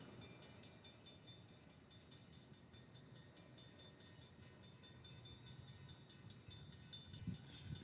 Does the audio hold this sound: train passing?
yes